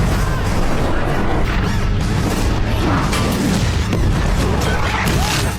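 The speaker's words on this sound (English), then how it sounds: "The assassins detonate C4 on the wall." A C4 charge detonates against a wall in a film action scene, giving a loud, dense blast with crashing debris that roars continuously for several seconds before cutting off.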